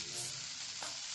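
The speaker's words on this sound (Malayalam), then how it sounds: "ഇളക്കി കൊടുക്കണം" Baby corn frying and being stirred in a pan, a steady broadband sizzle running the whole moment with a brief scraping stir partway through, close and fairly quiet.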